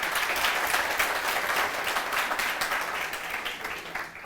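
Steady applause from an audience at a talk by a Hindi-medium UPSC topper, dense, continuous clapping from many hands for over four seconds, slowly tapering at the end.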